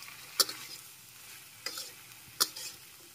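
Long-cut, washed bottle gourd in a pan with a low, quiet sizzle, punctuated by three sharp scraping stirs of a spatula, no voices.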